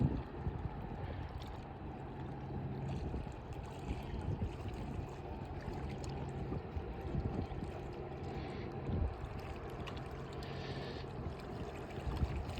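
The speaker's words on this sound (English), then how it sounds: "The Edgar Speer is pulling into the Conneaut Creek" The Great Lakes freighter Edgar B. Speer moves into Conneaut Creek harbor on Lake Erie, heard as a steady low engine rumble and broad water wash from a distance, continuous and unbroken.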